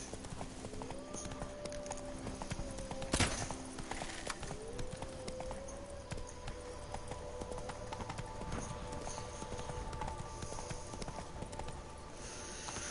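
Roach the horse galloping in The Witcher 3, a steady rapid clip-clop of hooves running continuously, moderately close over a quiet ambient background, with a brief loud thump early on.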